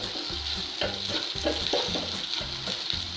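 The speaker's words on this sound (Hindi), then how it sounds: "अच्छे से भून रही हूँ, थोड़ा सा कड़ी पत्ता डालूंगी" Maggi manchurian sauce fries in a pan with curry leaves, giving a steady close sizzle broken by rhythmic scraping strokes of stirring, with no talking.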